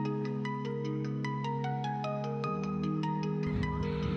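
A phone rings with a melodic electronic ringtone, a steady repeating pattern of bright tones playing clearly for several seconds as an incoming call arrives.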